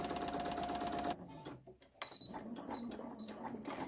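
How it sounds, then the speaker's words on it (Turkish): A sewing machine stitches the seam of children's shorts in a loud, rapid whirring run of about a second. The run stops abruptly and gives way to quieter clicks and fabric handling. "Diğer kısmı dikeceğim."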